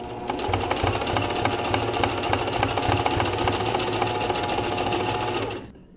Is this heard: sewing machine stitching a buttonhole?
yes